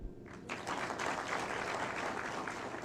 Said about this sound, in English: And we must clap for them.